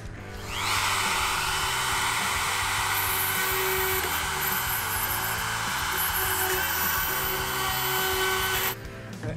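A router bit cutting away plastic around a hole in the bumper of a 2018 Dodge Ram truck, a continuous high-pitched whine that grinds steadily for about eight seconds, loud and close, then stops abruptly.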